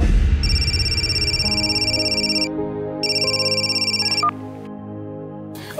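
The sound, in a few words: telephone ringing during a phone call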